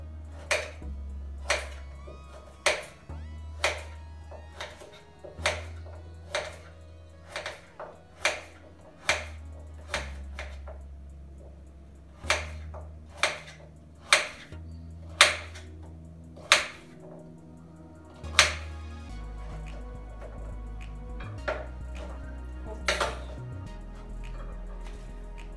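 A knife chops carrots steadily on a cutting board, sharp knocks in uneven bursts with short pauses, close and clear over a low background hum.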